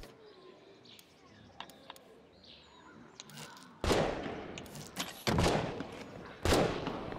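Loud gunshots in a video game ring out three times in the second half, each a sharp broadband blast with a short tail. Quieter ambient game sounds and faint chirps come before them.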